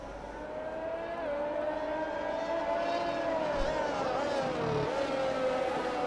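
Race cars in F1 2021 pull away for the formation lap at the Brazil round, a sustained layered engine whine that rises and shifts in pitch, fairly loud and continuous.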